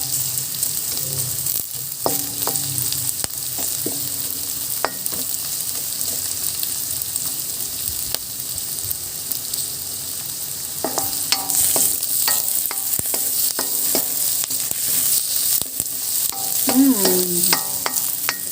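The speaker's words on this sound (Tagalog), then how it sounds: "pag nagigisa tayo talaga ng ano, bawang sibuyas, no?" Garlic, onion and bell pepper sauté in a pan with a steady, loud sizzle, and a utensil scrapes and stirs now and then, with no voices.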